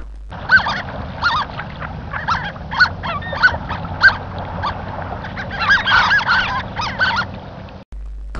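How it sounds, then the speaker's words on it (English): Harlequin duck calls: a steady run of squeaky, honking notes repeated in irregular bursts over several seconds, close and fairly loud with no voices. "Harlequin duck,"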